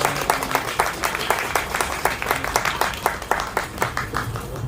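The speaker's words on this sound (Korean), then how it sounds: "대표님을 힘찬 박수로 모시면 좋겠습니다." An audience at a memorial gathering claps in a strong, steady rhythm, crisp individual claps close by with faint background voices.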